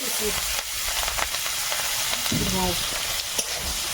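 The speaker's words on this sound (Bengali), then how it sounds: "পেঁয়াজগুলোকে একটু হালকা নাড়াচাড়া করে এবারে রসুন বাটাটা দেব" Onions frying in oil in a wok with dried chilies, a constant close sizzle broken by spatula scrapes and stirring, with a brief faint voice in the background.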